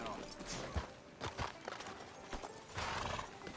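Horse hooves clip-clop in Red Dead Redemption 2 outside a sheriff's office, an irregular run of soft, fairly close steps with a brief whinny, mixed with other game sounds throughout.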